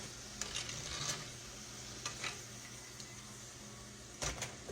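Eggplant slices fry in grease in a pan, giving a constant sizzle and crackle with occasional louder spatters and the clatter of a utensil scraping and turning the pieces.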